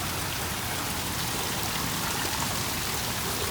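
Steady rain falls near a decorative fountain at an outdoor venue in Calapan City, Mindoro, a dense, even wash of patter and splashing that runs throughout with no voices.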